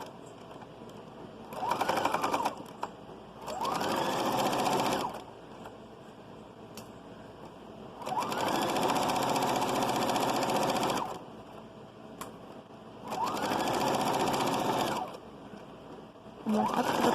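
A sewing machine stitches a children's shrug in three bursts of rapid, mechanical whirring, each a few seconds long, separated by quiet pauses, loud and close with no talking.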